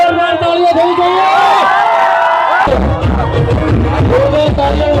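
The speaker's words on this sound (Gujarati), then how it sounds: "જોરદાર તાળીઓ થઈ જોઈએ" A large crowd in Baroda roars, cheers and whoops as Khajur Bhai arrives on stage, a loud, continuous wash of voices with shrill tones riding over it and a surge partway through.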